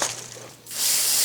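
A hissing spray rinses transfer case parts from a Napco Spicer 23, briefly pausing before a steady, close, bright hiss resumes.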